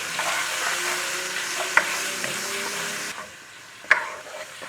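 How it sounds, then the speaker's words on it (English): Stir-frying in a hot pan for pho ga noodles, with a continuous close sizzle and two sharp spatula clacks against the pan, the sizzle softening near the end. "And then stir fry it quickly."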